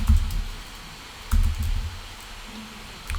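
Keys on a computer keyboard are tapped in a few short, scattered bursts of clicks, close and moderately loud, with quiet gaps between them and no voice.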